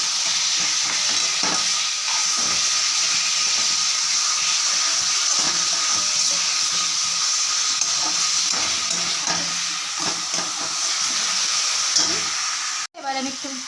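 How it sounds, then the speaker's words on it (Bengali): A little water goes into sizzling olive chutney in a pan. A loud, continuous sizzle and steam hiss with spoon-stirring scrapes runs close by, followed by a sharp burst near the end. "এবার আমি একটু জল দিয়ে দিচ্ছি অল্প করে"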